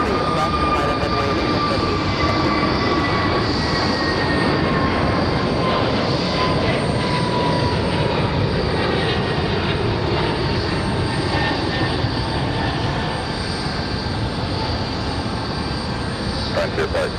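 An American Airlines jet rolling for takeoff on runway 23 right at Raleigh-Durham International, a loud steady engine roar holding for the whole stretch with a thin whining tone, and no voices.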